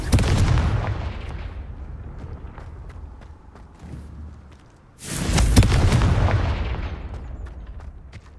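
Confringo fire-spell explosions go off in the Hogwarts Legacy video game: a heavy booming blast opens, rumbles and fades, then a second loud explosion erupts about five seconds later and rolls away.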